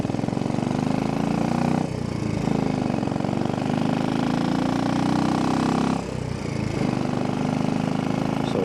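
A 2002 Royal Enfield Bullet 500 single-cylinder motorcycle engine runs with a steady, loud, close thumping drone. The sound dips briefly twice as the revs drop, then picks up again.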